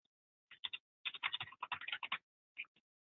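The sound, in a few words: typing on a computer keyboard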